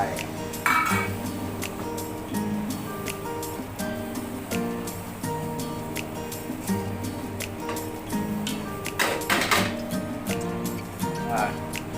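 Shrimp tossed into a hot pan for a Thai stir-fry, with continuous sizzling and repeated clinks and scrapes of a utensil against the pan while someone talks over the cooking.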